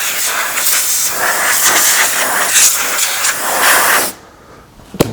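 Compressed air blasts across a car battery as it is cleaned, a loud continuous hiss that fills most of the clip before cutting off abruptly, followed by quieter room sound and a short click.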